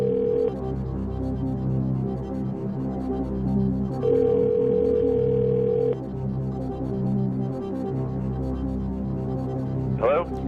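Telephone line connecting for a call over AT&T on a television game show: a steady tone plays, pauses, then sounds again for about two seconds over a low throbbing hum. A short chirp follows near the end.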